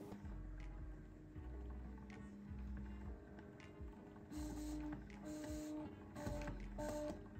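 Motor of a homemade force feedback flight joystick driving it back and forth in a first movement test, a repeated whirring and clicking mechanical buzz in short pulses, close and fairly quiet.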